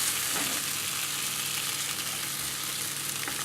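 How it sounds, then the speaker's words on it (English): Potatoes and onions frying gently in a pan on low heat, a steady close sizzle and crackle with faint stirring, no talking. "while your potatoes and onions are cooking along"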